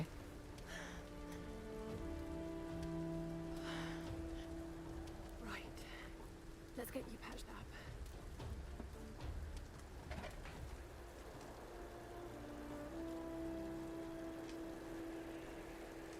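Steady rain falls in the video game Tomb Raider, a constant wash of droplets running under sustained game music tones and occasional cooing birds across the whole stretch.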